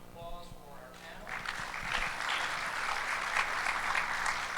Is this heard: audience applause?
yes